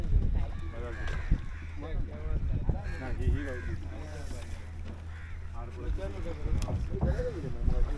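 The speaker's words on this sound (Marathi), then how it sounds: "आत्ता खाडीतून आम्ही होडी सोडलेली आहे आमची" A fishing boat heads out from a creek toward the sea, its engine a low, steady hum with wind and water beneath near continuous talking.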